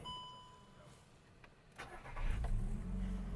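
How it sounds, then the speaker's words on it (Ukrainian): A 2008 Volkswagen Golf 5 1.6 MPI engine cranks and starts, then settles into a steady low idle rumble that grows louder and holds. "Автомобіль завівся співтиху"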